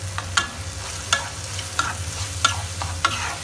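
Spices are stirred into a prawn masala gravy, giving a run of distinct spoon scrapes and taps against the pan about every half second over a low, steady bubbling, with no talk.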